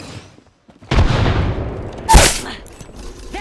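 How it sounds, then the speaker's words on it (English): A grenade in Apex Legends goes off with a loud booming blast that decays slowly, followed by a second sharp crack burst, all over a faint game background. "Grenade, heads up."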